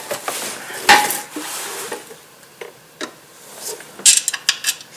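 Transmission pan being fitted back onto a VW Jetta MK4 after the filter change, with scattered metallic clinks, taps and rattles of the pan and parts handled up close, in irregular bursts with a denser cluster near the end.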